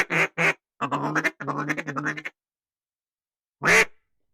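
Geese call near a duck blind in loud, close, nasal bursts: two quick honks, a longer rapid run of cackling calls, then a single call after a short silence, with no talking.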